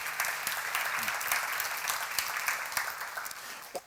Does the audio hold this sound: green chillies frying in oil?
no